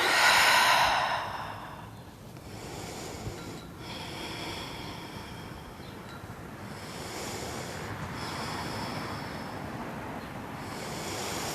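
A long, deep exhale drawn out during a reclined cobbler's pose yoga stretch, loud and close at the start, then fading into a soft, airy, sustained background hiss.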